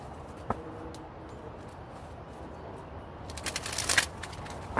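A deck of tarot cards is shuffled quietly; soft, faint rustling builds into a brief, crisp riffling burst near the end, with no talk.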